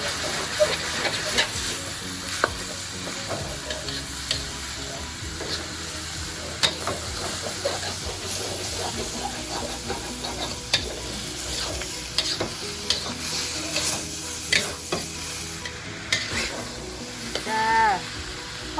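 Minced pork sizzles and hisses steadily in a hot pan while a utensil scrapes and stirs it in repeated clatters, close up and without talk.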